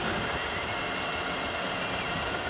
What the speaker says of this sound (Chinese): 师傅开动车床精磨了一遍